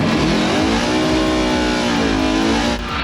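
A $10,000 Oldsmobile Cutlass drag car revs loudly and steadily up close, its engine note rising and holding through a sustained throttle pull before easing off slightly near the end.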